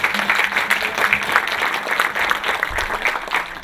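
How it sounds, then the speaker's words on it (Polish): Applause from an audience at a panel discussion, a steady close patter of clapping hands lasting a few seconds with a brief low sound near the end. "Myślę, że brawa jeszcze raz się należą."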